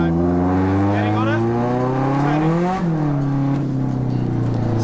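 A drift car's engine held on throttle through a drift entry, loud revs rising steadily then dipping and settling, recorded close, with a voice talking over it.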